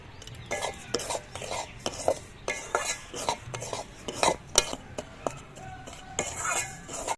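A spoon scrapes and stirs semolina toasting in ghee in a wok, in quick uneven strokes with light metallic clinks over a faint sizzle, close up.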